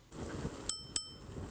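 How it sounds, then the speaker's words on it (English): Two sharp rings of the bell on a Ninebot Max G30 electric scooter, close and bright, struck about a quarter second apart with a short metallic decay after each, over faint background rustle. "That's the worst bell in the world."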